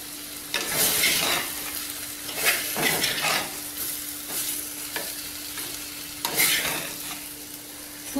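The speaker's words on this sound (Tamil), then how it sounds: "சிம்லேயே வச்சு வேக விடுங்க." Potato masala curry frying and simmering in a pan, a continuous soft sizzle broken by repeated scraping stirs of a spoon against the pan at an uneven rhythm, close by.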